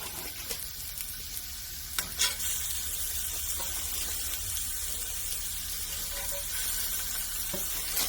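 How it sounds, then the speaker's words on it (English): Homemade breakfast sausage patties browning in a pan, a dense continuous sizzle and spatter with a few sharp clicks and scrapes, steady and close with no voices. "I am just going to keep going and brown up all my patties"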